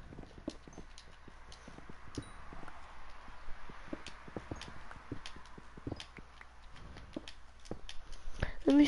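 Horse hooves clip-clop in the video game Minecraft, a run of light, quick, fairly quiet clopping steps over soft background noise.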